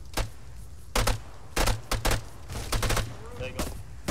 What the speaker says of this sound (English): We're taking fire from.